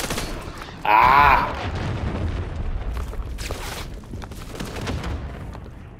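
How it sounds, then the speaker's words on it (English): A cruise missile strike explodes in Call of Duty MW3 multiplayer, one loud sharp blast followed by a rumbling, crackling gunfire-filled battle with a voice shouting over the noise. "Hostiles launched a cruise missile"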